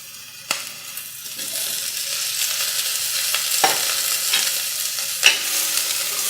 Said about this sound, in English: You just want to saute your vegetables for about 2 minutes, at least until they get soft.